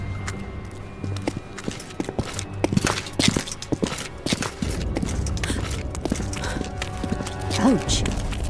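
Roach the horse clip-clops along in The Witcher 2, irregular hoof strikes close by mixed with game ambience, a brief whinny-like sound near the end, and voices talking over it.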